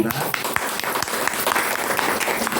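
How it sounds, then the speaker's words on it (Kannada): Classmates clap for a student after her oral viva exam in a Bhagavata diploma course, a dense, steady patter of many hands filling the whole stretch with no talk over it. "ಚಪ್ಪಾಳೆ"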